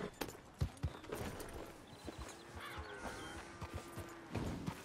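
Horse hooves clip-clop in the video game Red Dead Redemption 2, an irregular run of quiet hoof strikes with faint background tones.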